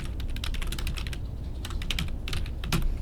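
Fingers type quickly on a computer keyboard, a close, rapid run of crisp key clicks in bursts with a brief lull midway, alone without talk.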